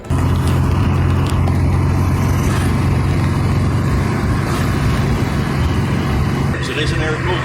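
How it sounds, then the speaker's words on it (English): A Porsche 356 with an air-cooled engine running, a loud, steady low rumble with a constant droning hum that holds through, close up, with a faint voice underneath. "It is an air-cooled engine, and it does better turning higher RPMs and getting more air over the cylinders"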